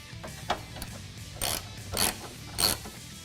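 Ratchet clicking in three short bursts as bolts on the factory tailgate hinges of a 2007-2018 Jeep Wrangler JK are snugged down during a Rugged Ridge tire carrier install, moderately close with quiet gaps between.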